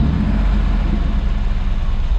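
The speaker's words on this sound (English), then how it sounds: "Listen to that V8 purr." A Mercedes G-Wagon V8 with side-pipe exhaust runs with a loud, steady, low engine rumble, close by and continuous with no talking.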